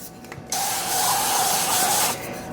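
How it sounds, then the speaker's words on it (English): Non-stick cooking spray hisses from a can into a preheated Cosori air fryer basket in one steady burst of about a second and a half, close by and alone. "I'm going to spray it with some non-stick spray"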